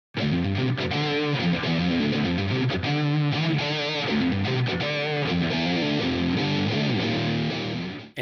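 Electric guitar run through an HX Stomp amp simulator plays a steady distorted riff of chugging chords and single notes, loud, dense and close, continuing without pause and with no voices.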